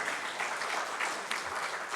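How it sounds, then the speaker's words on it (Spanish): A church congregation claps as an offering of praise to the Lord during a Spanish-language sermon, a brief, even wash of moderate applause with no voices on top. "Denle una ofrenda de palmas al Señor."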